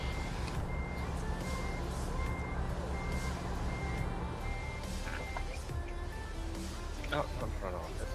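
Truck reversing beeps in American Truck Simulator, a steady repeating electronic beep over a low engine rumble, with people talking throughout.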